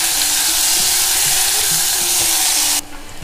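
Steady, loud sizzling of chopped onions frying in a pressure cooker for an Indian rajma curry, a dense crackling hiss that cuts off abruptly near the end.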